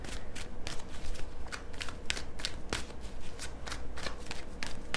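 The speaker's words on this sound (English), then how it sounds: "let me shuffle a little bit with you here" Tarot deck being shuffled by hand, a fast series of crisp riffling card bursts repeating steadily and close up, with no speech over it.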